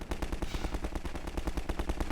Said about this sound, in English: get mown down by the machine guns in the nest